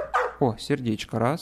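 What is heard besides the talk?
dog barking in an animal shelter video game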